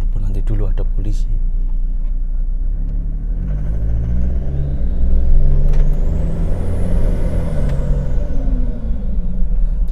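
A Toyota Fortuner biturbo accelerating hard, its deep engine rumble climbing in pitch as the revs build, with a turbo whistle rising and falling and a voice talking over it.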